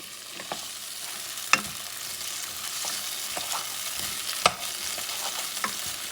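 Small pieces of cut tomato fry in a pan with a soft, steady sizzle, broken by a few sharp clicks and scrapes of a utensil stirring, fairly quiet and with no talking.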